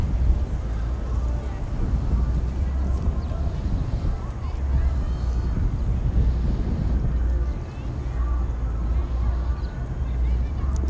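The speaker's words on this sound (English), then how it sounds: "It's so windy out here right now." Strong, whipping cold wind blows steadily through Central Park beside a pond with geese, a constant low rumble and roar buffeting the microphone under faint background sounds.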